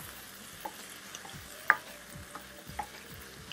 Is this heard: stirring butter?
yes